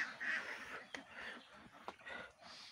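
Ducks quack faintly at a duck farm in the morning, a few short nasal calls spread across a brief, quiet stretch.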